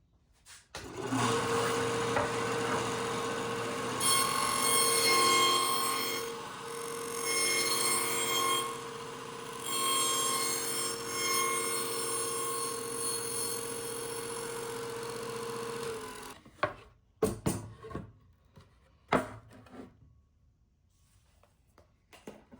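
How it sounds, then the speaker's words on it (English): A table saw cuts a groove in wood with the fence moved over 1/8 inch. A loud, steady motor whine runs about fifteen seconds and then cuts off, followed by a few scattered knocks and handling sounds. "So now I move the fence over 1/8 inch and cut it again."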